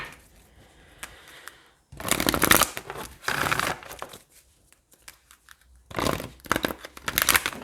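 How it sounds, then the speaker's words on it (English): Tarot cards are shuffled close up in several bursts of riffling and crinkling, the loudest spells coming a few seconds in and again near the end, with quiet pauses between them. "I'm already seeing the All That Glitters card during my shuffle"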